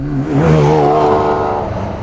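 A McLaren F1 supercar engine runs smoothly with a steady, continuous mid-range drone and a slight rise in pitch, close and fairly loud with no talking.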